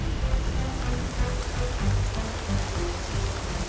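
Steady rain falls in bad weather during an ibex hunt near Malaga, a continuous dense patter with low rumbling wind noise, close and even throughout, with no talk.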